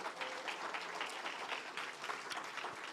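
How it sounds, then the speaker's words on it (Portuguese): A church congregation claps continuously, a broad wash of many hands applauding at a steady level without voices. "Aplausos para o Senhor"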